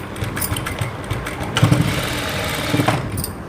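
A sewing machine stitching a blouse runs in short bursts of motor whir and needle chatter close by, with small pauses between runs and no talking.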